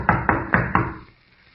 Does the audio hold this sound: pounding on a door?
yes